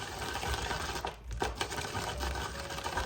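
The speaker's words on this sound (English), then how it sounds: "I'm gonna grind up some peanuts." Peanuts are ground in a small kitchen grinder, giving a quiet, steady mechanical whirr with a brief dip partway through.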